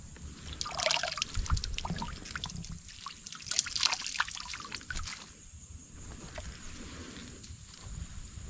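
Water trickling and dribbling onto a small absorbent material outdoors in a swamp, with soft uneven splashy bursts that come and go against quiet background noise.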